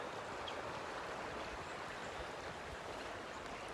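The North Fork of the White River in Mark Twain National Forest runs high, giving a steady, unbroken rush of flowing water at low volume with no talking.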